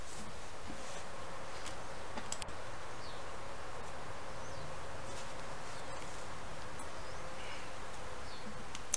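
Honeybees from a package hum in a dense, continuous drone as they are dropped into a new hive, with a steady buzz at moderate level and occasional louder passes of single bees close by.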